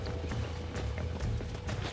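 Clip-clop hoofbeats from a horse running off in the video game Red Dead Redemption. The steady galloping rhythm sounds close and stays over a low rumble.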